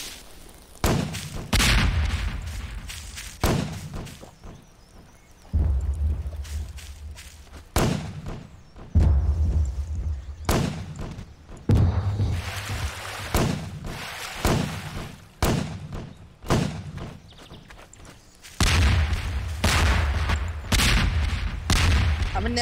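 Grenades going off underwater in Garry's Mod, a long run of heavy, booming blasts and thuds in quick irregular bursts, some clustered in rapid volleys, with brief gaps between.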